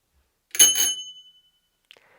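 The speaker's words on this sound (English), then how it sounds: "a bell which is quite a basic bell just to fulfill the legal requirements." A basic, cheap bicycle bell of the kind fitted to kids' bikes gives one bright ring that fades over about a second, followed by a faint click, heard alone and close.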